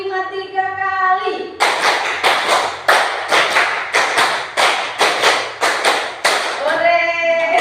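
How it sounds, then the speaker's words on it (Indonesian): Patterned hand clapping by a group of teachers in a training session, about fifteen sharp, loud claps in a quick rhythm in the middle, bracketed by a speaker's voice at the start and end. "tepuk 5 3 kali."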